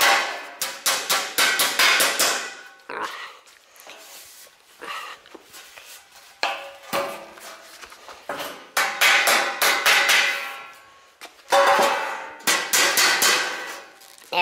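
A hammer taps metal corners before soldering, sharp close strikes in quick irregular bursts separated by short pauses.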